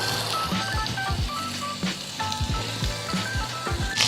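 Birria meat set fat side down in olive oil sizzles and crackles steadily in a hot pan, with a continuous close frying hiss broken by small pops and scrapes.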